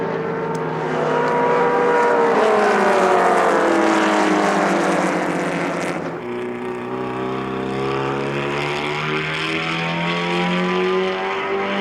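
Racing cars at Goodwood roar past close by in a loud continuous stream of engine notes, a brief dip near the middle, then more engines sweep through with rising and falling pitch.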